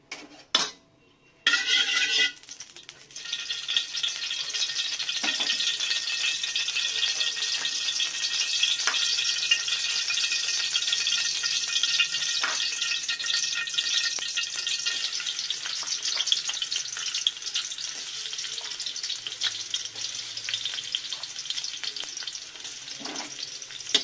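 Onion and garlic sauté in a pan, a brief clatter before a steady bright sizzle sets in and continues, punctuated by occasional stirring scrapes and taps of a utensil.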